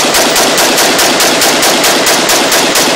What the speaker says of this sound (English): This is a 21 gun salute for my old man who was a Marine.